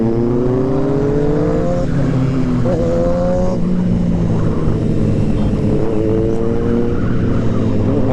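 A superbike engine revs and changes pitch as it rides along a hilly Kodaikanal road, loud and close with steady engine drone and rising gear sweeps throughout.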